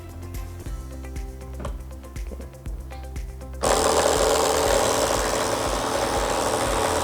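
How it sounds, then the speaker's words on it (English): A Sculptra mixer shakes a vial of suspension. A quieter mechanical hum with rapid ticking gives way midway to a loud, steady whirring rattle that holds to the end. "we'll just use about 15 seconds to mix this"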